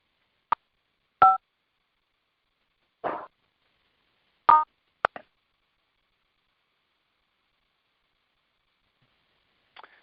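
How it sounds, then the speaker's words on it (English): Telephone keypad tones as star and six are pressed to unmute a conference call: several short, separate beeps spread over a few seconds amid near silence, with a faint final blip at the end. "go ahead and press *6, Ben, on your phone"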